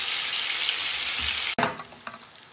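Duck breasts (magrets) fry in a pan with a strong, steady sizzle, broken by a brief dropout and then renewed crackling pops.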